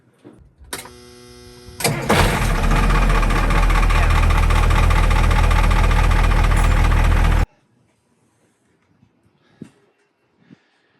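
A boat's engine, just repaired after a solenoid fault, cranks briefly and then fires into a loud, steady, close idle that runs for several seconds before cutting off abruptly, leaving quiet with a few faint knocks.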